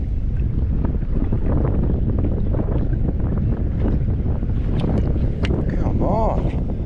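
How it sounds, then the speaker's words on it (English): Strong wind buffets a small fishing boat out on Southern Moreton Bay, a steady loud roar of gusts over the microphone with water slapping the hull, and a voice speaks briefly under the noise. "This wind's getting out of control"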